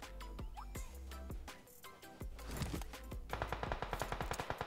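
Gunfire from the mobile battle-royale game PUBG Mobile, with scattered single shots followed by a rapid automatic burst of evenly spaced cracks, moderately loud against a faint game backdrop.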